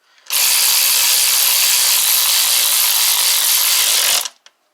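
A ratchet with a 10 mm socket snugging down a bolt on a 2012 Mini Cooper engine, giving a loud, continuous, close rapid clicking for about four seconds before stopping.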